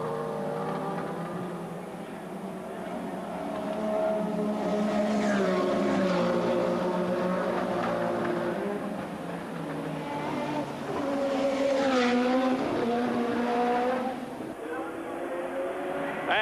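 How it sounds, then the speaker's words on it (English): Formula One cars race at the 1984 Monaco Grand Prix, their engines rising and falling in pitch as they pass, moderately distant, under a commentator's continuous talk. "And there goes Senna, and it's only 7 seconds now"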